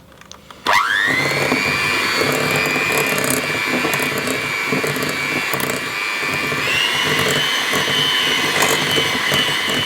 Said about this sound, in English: next I'm going to cream together the butter and sugar just for a couple of minutes until they're light and fluffy